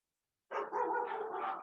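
Several dogs bark continuously at moderate volume, overlapping yips and barks forming a steady outdoor chorus after a brief silence.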